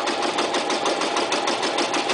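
A Toyota Super Jeans J34 sewing machine stitches through marine vinyl in a steady, loud, continuous whirring run with a fast, even mechanical pulse.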